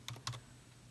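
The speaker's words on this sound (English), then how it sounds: "I'm going to type my patient's name in" Typing on a computer keyboard while entering a patient's name on a medication system, a few quick, faint key taps close by with no talking.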